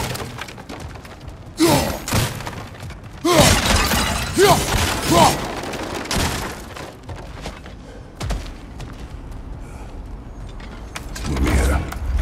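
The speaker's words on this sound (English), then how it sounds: "back to smashing through things for fun and profit" Breakable objects smashed apart in God of War Ragnarok gameplay, with several loud crashing, shattering bursts and thuds in separate clusters over a low game ambience, no talk over them.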